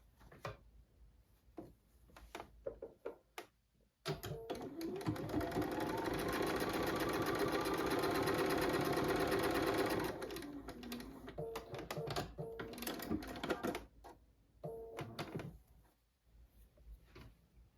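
A sewing machine runs a straight seam across quilt fabric pieces for a block, with several seconds of steady humming stitching framed by clicks and fabric handling before and after.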